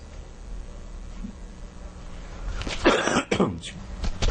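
A quiet stretch of room tone, then a man clears his throat with a few rough, gravelly rasps near the end.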